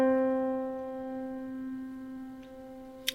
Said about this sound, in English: When it comes to the piano, our middle C sounds like this.